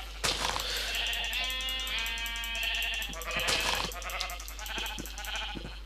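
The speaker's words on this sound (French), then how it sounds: "Il faut au moins 3 moutons." Several sheep bleats from the video game Minecraft, overlapping wavering calls in a steady sequence, loud and close with no talk.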